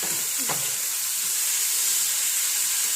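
Steady soft hiss of steam rising from curry cooking in a pot, faint and continuous for a few seconds with a brief light scrape of stirring near the start.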